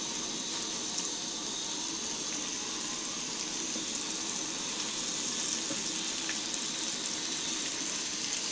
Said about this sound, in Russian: Жарю щуку, ребята.